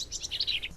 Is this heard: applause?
no